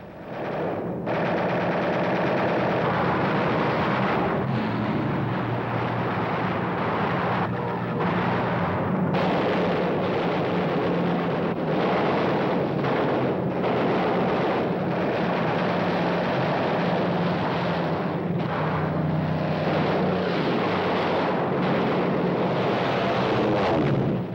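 Machine-gun fire and gunfire from a WWII B-17 bomber under attack, loud, dense and continuous with rapid bursts over a roaring aircraft drone, no talk.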